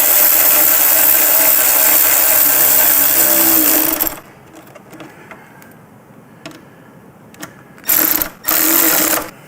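A power driver whirs for about four seconds, running a screw into a motorcycle lower fairing, then stops; after faint handling sounds, two shorter bursts of whirring follow.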